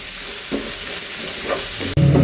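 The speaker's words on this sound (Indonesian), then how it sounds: "Ini kita tumis dulu sampai sedikit layu ya." Torch ginger stems stir-fried in a pan until slightly wilted give a steady close sizzle with scraping stirs, growing louder near the end.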